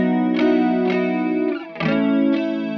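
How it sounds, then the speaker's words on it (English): Electric guitar played through a DOD Ice Box chorus pedal, a few sustained strummed chords with a shimmering, wavering chorus tone and clear pick attacks, loud and alone with no talking. "you definitely hear more chorus with that up"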